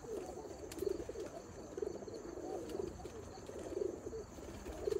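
Pigeons coo in a loft in soft, repeated, rolling phrases at a moderate distance, several calls overlapping in a quiet, steady rhythm.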